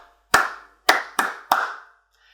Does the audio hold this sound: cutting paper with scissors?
no